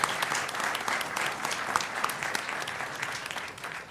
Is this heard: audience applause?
yes